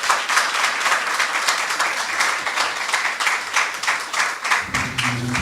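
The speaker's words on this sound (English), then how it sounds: "Let's give her a round of applause." Audience at a school debating competition applauding a speaker, dense sustained clapping from many hands in a hall, loud and even, tailing off at the end as a low voice begins.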